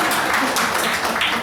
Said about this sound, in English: it's a clap.